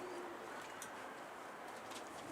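A Mardin kaçak pigeon coos faintly under a steady wash of broadband background noise, with soft, indistinct calls spread across a couple of seconds.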